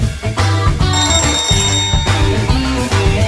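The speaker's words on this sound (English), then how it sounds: "The black phone rings!" A black telephone rings inside the video game Shin Hayarigami 2, its loud, steady electronic bell trilling in repeated bursts with no talking over it.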